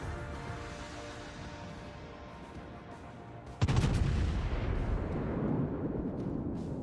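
Naval gunfire from a battleship in World of Warships, with a low rumbling game soundscape suddenly broken by a loud, close booming salvo that rolls on as a heavy sustained rumble.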